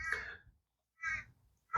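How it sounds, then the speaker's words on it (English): A crow cawing outdoors, three harsh, loud calls spaced roughly a second apart, close by and with no other sound between them. "Man, that bird was going nuts."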